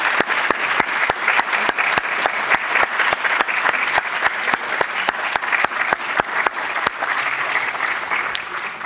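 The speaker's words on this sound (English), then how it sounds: "I think a round of applause is in hand for Baha." Audience applause fills a lecture hall after a speaker is thanked for many years of stewarding an archaeological expedition at Sardis; steady, dense clapping with sharp individual claps standing out, continuous and fairly loud throughout.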